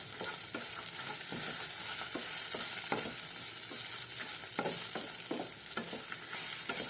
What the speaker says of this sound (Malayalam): മുളക് നല്ല കറക്ക പോലെ കറുത്തതുപോലെ ഇങ്ങനെ ഫ്രൈ ആക്കി എടുക്കണം